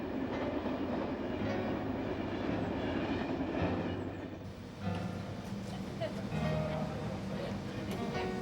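Train pulling out of Berwick station on a rail tour of Scotland, a steady rolling rumble with faint rhythmic wheel clatter and tonal hums, heard from inside the carriage.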